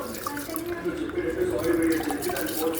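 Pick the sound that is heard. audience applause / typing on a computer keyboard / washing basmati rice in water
washing basmati rice in water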